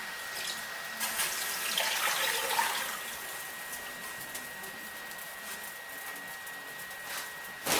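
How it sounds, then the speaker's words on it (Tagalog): Water running from a kitchen tap into a pot while chicken adobo is being cooked, a steady broadband rush that swells in the first few seconds and then settles into a continuous flow until the end. "Lagyan natin ng tubig."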